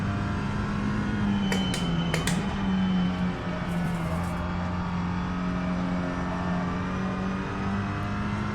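Audi RS3 TCR race car engine in a racing video game, a steady droning engine note holding a constant pitch with a few brief sharp clicks early on, loud and continuous throughout.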